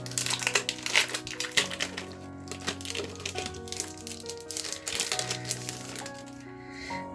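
A decal notebook package is unwrapped, with bursts of crinkling and rustling wrapping heard steadily over background music with sustained tones.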